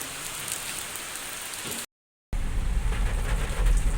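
Steady rain falling, a dense hiss that cuts out briefly, then returns louder and heavier with a low rumble underneath.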